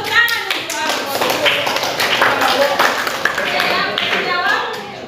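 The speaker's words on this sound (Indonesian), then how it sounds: "Tepuk tangan untuk Alfonso." Classroom clapping for a student in an Indonesian teaching-practice lesson: close, loud hand claps in a quick, uneven patter from several pupils, with voices mixed in.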